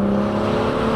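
A 500HP BMW M2 exhaust drones steadily up close under throttle, with a continuous rough burble and no distinct crackle or pop standing out.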